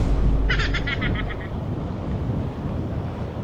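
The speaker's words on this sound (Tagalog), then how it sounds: "Hangin lang." Steady wind rumbles and buffets across the microphone, with a short, bird-like call briefly cutting through near the start.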